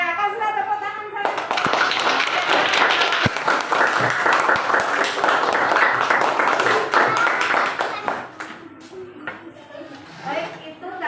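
Children in a classroom clap together during a multigrade lesson simulation, a sharp burst of many hands that stays dense for several seconds before tapering off, with a teacher and children talking before and after.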